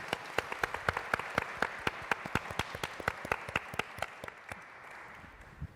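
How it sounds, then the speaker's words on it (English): Sparse, distinct hand claps from a small audience welcoming guests at a book panel, a dozen or so sharp individual claps spaced irregularly, fairly close, thinning and fading out toward the end with no voices over them. "So please give a round of applause for our guests"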